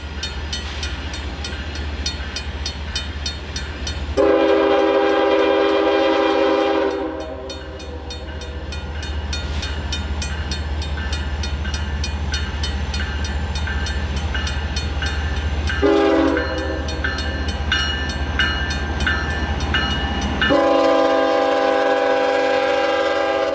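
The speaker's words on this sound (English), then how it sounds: "we caught the train again as it was picking up speed." A freight train with a high-hood EMD GP38-2 locomotive rumbles steadily close by, picking up speed, wheels grinding, while a loud horn blasts in several long calls that rise over the growing roar.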